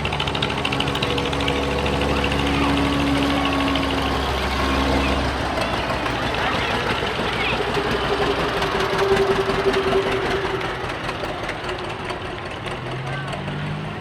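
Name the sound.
antique tractor with straight muffler driving in parade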